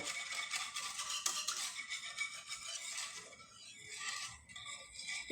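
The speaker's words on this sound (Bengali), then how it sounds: "এখন খুব ভালোভাবে মিশিয়ে নেব।" A spoon stirs a watermelon rind mixture in a bowl, producing continuous close scraping and rubbing with a gritty texture, easing slightly toward the end.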